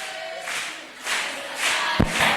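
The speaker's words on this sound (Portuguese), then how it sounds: "Uma salva de palmas para minha esposa Priscila, minha namorada." A conference audience bursts into applause and cheers for the speaker's wife on her birthday, crowd noise swelling in waves with a sharp thump near the end.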